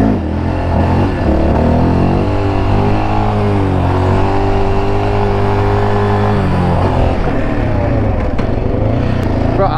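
A Yamaha Raptor quad ATV drifting makes a loud, close, continuous engine drone that shifts in pitch as it revs and slides, with no talking over it.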